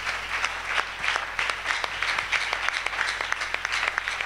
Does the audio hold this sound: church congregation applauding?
yes